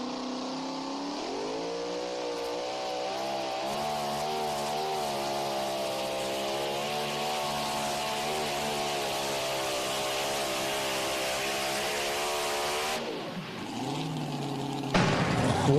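A pro pulling tractor roars loud and close during a pull at the 2025 Western Illinois Pro Pull in Mt. Sterling, Illinois. The engine climbs and holds a strained, rising howl for about twelve seconds, then abruptly drops off.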